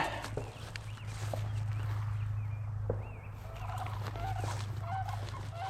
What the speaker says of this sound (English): Can you see can you hear the sandhill cranes?